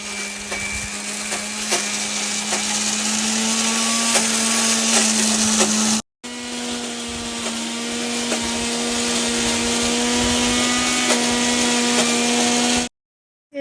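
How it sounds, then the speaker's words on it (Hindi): A mixer grinder grinds soaked lentils, whirring loudly and steadily with a high motor whine, a brief stop midway before grinding resumes, then cuts off near the end. "तो ये डाल दिया हमने मिक्सी की कटोरी में, अब इसे पीसेंगे।"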